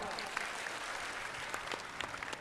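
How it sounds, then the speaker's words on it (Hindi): An audience claps steadily, a dense wash of applause holding at an even level from start to finish. "वाह, ताली बजाओ।"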